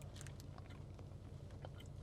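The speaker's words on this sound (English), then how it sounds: "Loudly chewing on brunch bars." Brunch bars chewed loudly and close to the mic, with repeated crunchy bites and wet mastication clicks over a constant low rumble, no talking during the chewing.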